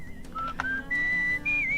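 A game character whistles in Where the Water Tastes Like Wine, a few short clear notes rising into longer held tones, alone and close.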